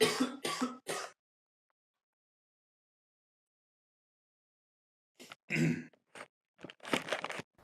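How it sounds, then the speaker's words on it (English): A man clears his throat and gives a short burst of coughs, then falls silent for several seconds before more throat noise and coughing follow, close and moderately loud, with no speech. "I just need to cough."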